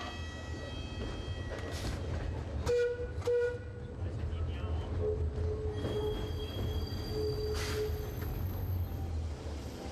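A Soller Railway train pulls into the station, rumbling low with squealing wheels and a few tonal squeaks and toots over a continuous background.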